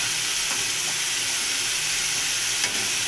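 Ginger and cumin spice paste for a thin Bengali fish curry fries in oil in a pan, giving a steady, close, continuous sizzling hiss with soft stirring and no voices.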